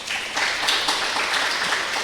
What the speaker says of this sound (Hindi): बजाएंगे ताली बाबा के लिए?